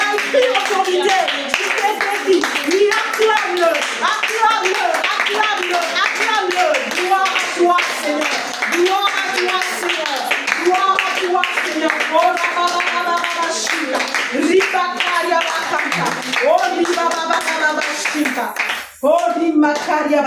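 A church congregation claps and acclaims during worship, with steady rhythmic clapping running under loud singing and voices for the whole stretch before a brief drop near the end.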